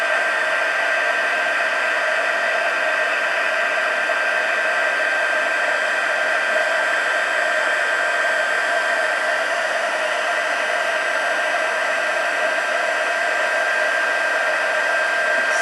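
Heat embossing tool blowing hot air over a stamped card, a loud steady whooshing hum with a constant whine, unbroken and close for the whole stretch.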